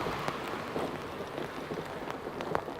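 Steady rain patters during a bicycle ride through Amsterdam, a fairly quiet, continuous hiss with scattered sharper drops and no voices.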